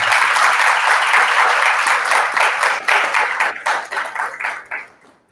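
An audience at a university ceremony in Honduras bursts into dense, steady applause that holds strong for several seconds, then thins into scattered claps and fades to near silence.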